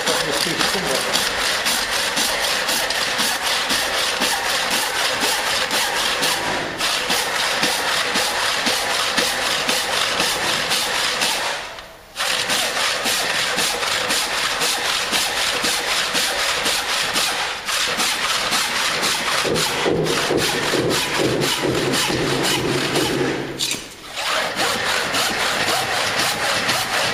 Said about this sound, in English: So just using ordinary saw and working down this piece of end grain, all I'm going to do is cut my wedge from this piece of timber.